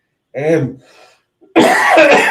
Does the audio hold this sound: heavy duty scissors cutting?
no